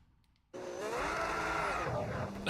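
An F1 car's engine bursts in abruptly after a short quiet gap and holds a high, rising whine as the throttle is stomped at Monaco in an F1 video game, loud and close with no talk over it.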